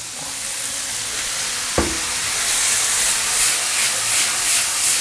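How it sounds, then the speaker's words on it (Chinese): Diced carrots with fresh shiitake pieces stir-fried in a hot wok over high heat, a continuous loud sizzle with one sharp clank of the spatula partway through. "这时候就把火开到最大，我们去炒一下它"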